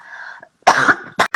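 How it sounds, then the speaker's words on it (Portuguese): Several harsh coughs from a person choking mid-speech, a sustained throaty rasp followed by a loud burst and two short sharp coughs, close and alone. "eu vou tossir, peraí"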